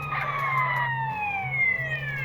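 Ambulance siren in the video game GTA San Andreas, with sweeping wails gliding downward over a low, steady engine drone at moderate volume.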